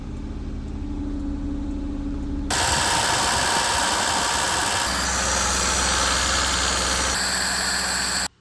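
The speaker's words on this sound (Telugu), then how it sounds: "వెహికల్ స్టార్ట్ చేస్తుంటే అసలు మాట్లాడటం అవ్వట్లేదు, అంత ఓవర్ రైజ్ అయిపోతుంది వెహికల్ అయితే." A Suzuki Alto engine, overheating with its coolant boiling, roars at high revs alongside a radiator fan. A faint hum gives way suddenly to a loud, steady, close-up drone that holds until it cuts off at the end.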